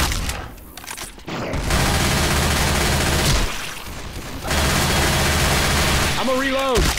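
Sustained automatic gunfire from the zombie shooter Left 4 Dead 2, loud, close, dense bursts with a brief lull, then a shouted voice cutting in near the end.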